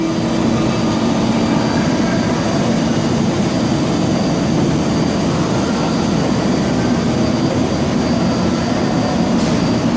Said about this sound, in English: 60-inch chucking lathe.